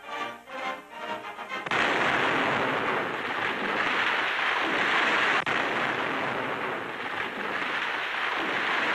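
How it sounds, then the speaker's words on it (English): Heavy, continuous roaring rumble from blasting to carve a military highway through untouched jungle wilderness, starting after a brief lull of softer rumbles and sustained loud and close throughout with a sharp crack partway through. "they're blasting a path through a wilderness never before conquered by man"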